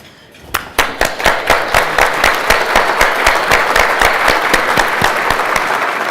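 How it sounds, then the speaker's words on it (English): Audience at an HBCU deans' breakfast event applauds corporate sponsors, with dense, steady clapping that begins with a few sharp claps and swells into sustained applause filling the room. "they deserve a round of applause."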